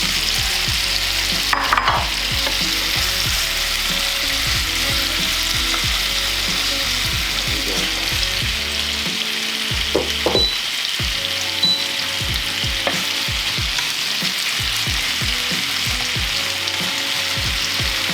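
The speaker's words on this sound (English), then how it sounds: "you literally just want to leave this in the pan until one side's crisped up, flip it over, crisp at the other side" Spicy Korean-style tofu crisps in oil in a pan, a dense continuous sizzle and crackle with scattered sharp pops and occasional scraping, loud and close with no voices.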